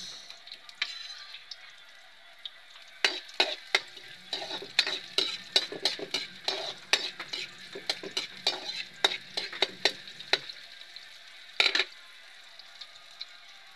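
Onion frying alongside garlic in a pan in a home kitchen, a faint background sizzle broken by a run of quick, irregular scraping stirs, then a final scrape.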